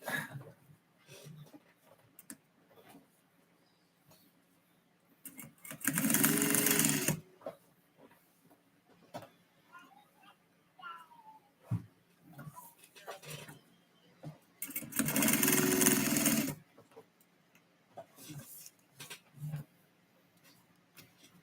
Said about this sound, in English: Just in the middle of sewing a fanny pack